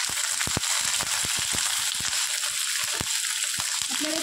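Thick-cut capsicum pieces fry in hot oil in a kadai, giving a steady close sizzle punctuated by sharp crackles and pops throughout.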